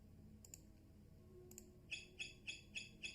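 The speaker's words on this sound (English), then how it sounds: "That's that silver alert chirping." Trading software sounding a silver price alert: a string of five short, bright electronic chirps in an even rhythm near the end, after a couple of faint clicks, over quiet room hum.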